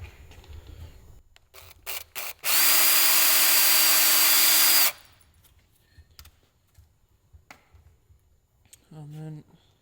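A power drill bores a small pilot hole for a screw in wood inside a steel channel section of a 70-year-old London double-decker bus, a loud steady whine lasting about two seconds, framed by handling clicks and brief talk.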